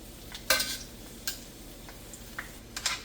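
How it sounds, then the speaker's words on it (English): Dried chiles frying briefly in a pan for chicken mole, with soft crackling sizzle and a few sharp clinks and stirring scrapes against the pan, close and fairly quiet. "You just want to fry these up for a couple seconds."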